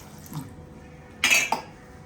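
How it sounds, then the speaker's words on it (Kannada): Water is poured onto jaggery in a cooking pot, giving a brief splashing burst with a smaller second splash just after, set against quiet kitchen background. "ಬೆಲ್ಲ ಸ್ವಲ್ಪ ನೀರು ಹಾಕ್ತೀನಿ"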